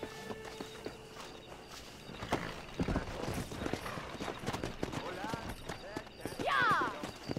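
Horses clip-clop and gallop across open ground in Red Dead Redemption, hoofbeats near and continuous with a whinny rising near the end, under a voice talking.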